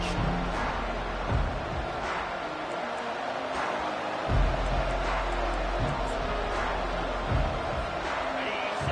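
A football stadium crowd at the Michigan vs. Oklahoma game roars steadily throughout, a dense, continuous wall of cheering with a few louder surges and low thumps.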